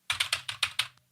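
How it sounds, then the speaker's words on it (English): Fingers tap a computer keyboard in six quick, crisp clicks at a steady rhythm, close and fairly quiet, with no voices. "That's what that noise was, by the way, tapping on my keyboard."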